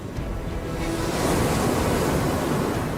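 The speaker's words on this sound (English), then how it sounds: "the Mayflower encounters a ferocious storm in the North Sea" Crashing waves and howling wind of a ferocious North Sea storm battering the overloaded wooden sailing ship Mayflower, a dense continuous roar that swells and stays loud throughout.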